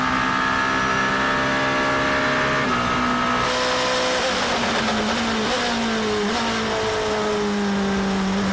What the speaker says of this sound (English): Here comes the number 8 Toyota passing both Porsches as they squabble for